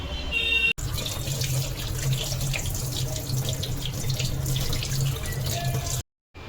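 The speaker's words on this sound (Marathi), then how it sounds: "तर याला मस्तपैकी असा स्वच्छ आपण धुवून घेऊया।" Running tap water pours steadily over cut bala fish being washed in a sink, a continuous close splashing rush for about six seconds before cutting off abruptly.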